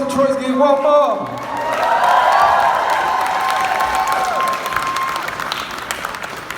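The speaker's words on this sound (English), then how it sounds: "give a round of applause to Troy's give one more" Convention audience applauding for Troy after a live performance, brief talk at the start giving way to a swelling, steady burst of clapping and a few whoops that fades a little before the end.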